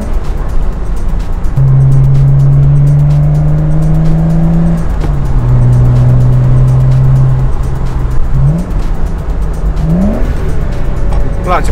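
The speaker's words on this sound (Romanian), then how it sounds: "Acum o să încerc să fac un heel-toe downshift." A Porsche convertible engine revs through a heel-toe downshift: a steady loud drone that drops, then sharp throttle blips rise and fall, close and prominent throughout.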